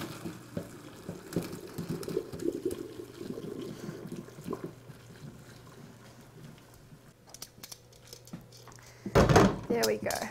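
Hot water poured off cooked vegetables into a drain, a brief loud gush and splash near the end following quieter kitchen sounds and background hum, with no talking.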